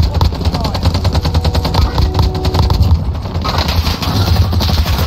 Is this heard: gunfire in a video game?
yes